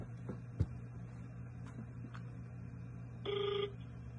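A single short electronic ring of an outgoing phone call sounds faintly in a quiet room, preceded by a few small knocks and rustles.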